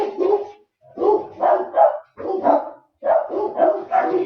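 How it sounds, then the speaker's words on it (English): Two dogs close by whine and yelp in short repeated bursts, high-pitched and insistent, with brief pauses between the cries. "there's two dogs down here whining at my feet"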